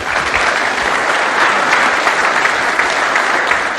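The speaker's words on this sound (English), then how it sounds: "So give a big round of applause for Michael Schratt." Dense, continuous applause from a conference audience, loud and close, with many hands clapping steadily and evenly throughout.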